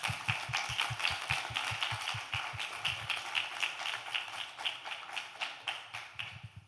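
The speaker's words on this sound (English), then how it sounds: "give another round of applause" Scattered clapping and tapping at a conference between speakers, a modest round of applause continuing steadily with low thumping underneath early on.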